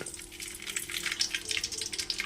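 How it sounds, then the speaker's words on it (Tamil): Sharp crackling and popping of mustard seeds spluttering in hot oil, rapid and close, continuing steadily over a short stretch. "கடுகு நல்லா பொரியுது"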